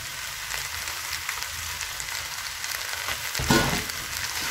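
Beef pilau rice fries and sizzles steadily in a pot, with a louder scraping stir near the end over the continuous hiss.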